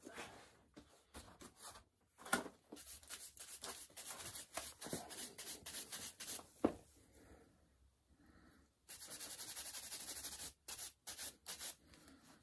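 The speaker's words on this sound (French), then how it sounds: "Ça, on va lui mettre un petit coup de brosse." A brush is worked over MBT Glitter thread in short, close, dry strokes, coming as uneven bursts of bristly rubbing with brief pauses and one longer steady scrub near the end.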